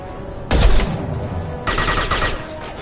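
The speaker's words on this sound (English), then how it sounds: "Firing an impact shot." Impact shot fired in the Mass Effect 2 video game: two loud bursts of weapon fire with rumbling tails, the first striking sharply and the second following about a second later, with no talk.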